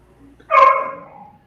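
A dog gives one sharp, close bark that trails off briefly, heard alone in an otherwise quiet indoor room.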